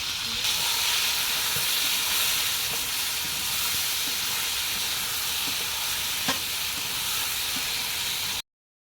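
A spice paste of ground chili and cumin for a pointed gourd and prawn curry sizzles steadily in a pan, a continuous close hiss with faint stirring clicks and no talking, then stops abruptly.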